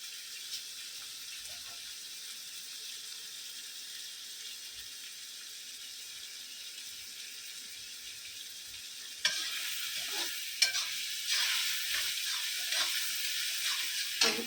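Turmeric powder stirred and fried in a pan for a paneer curry starts as a faint hiss, then turns to a louder sizzle with scraping stirs for the final few seconds.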